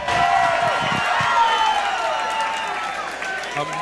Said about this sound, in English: Amazing reception from the crowd there from Connor Eskridge.